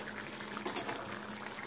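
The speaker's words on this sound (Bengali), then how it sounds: "ঝোলটা সুন্দর ফুটে গেছে, পটলগুলোও সুন্দর সেদ্ধ হয়ে গেছে।" Curry gravy with pointed gourds bubbles softly in a pan, a faint continuous simmering with small pops, heard alone and quiet.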